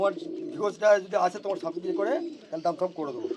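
A pair of old-line black Giribaj pigeons being set loose give soft, close cooing that runs through the whole moment, mixed with nearby human voices.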